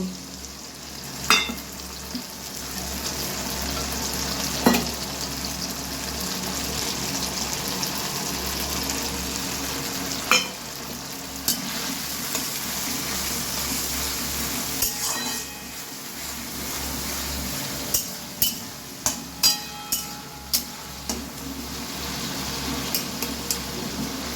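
Chilli soya chicken frying in a pan with tomato sauce, chilli sauce, dark soy sauce, chilli powder, turmeric, salt and sugar: a continuous close sizzle with stirring, and sharp utensil clinks that grow more frequent toward the end.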